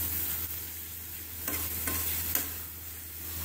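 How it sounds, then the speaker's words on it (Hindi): Spicy mutton mince keema with yogurt fries on a tawa, giving a continuous dense close sizzle with a few faint stirring clicks and no talk. "इसे मैं इसके अंदर रख कर दोबारा भूनूंगा"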